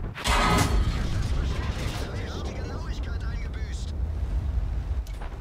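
A single heavy cannon shot from a T49 in the World of Tanks video game: a loud, booming blast near the start, followed by a long, low rumble that rolls on to the end.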